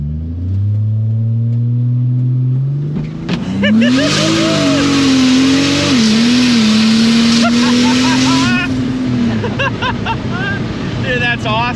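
A 700hp turbocharged 4.2L Trailblazer with a 6L80 transmission launches on the street, its engine note rising steeply and holding a loud, strained roar, then easing off near the end.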